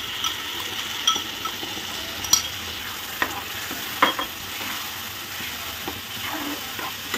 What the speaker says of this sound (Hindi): अब ये टमाटर की प्यूरी के साथ ये सारे मसाले जो हैं हमारे भुन जाएंगे अच्छी तरीके से।